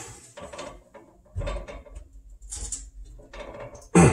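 Short bursts of metallic ratcheting and clicking from a wrench tightening a gas line fitting on a dryer, a few separate strokes with pauses, close up, ending in a sharper clank.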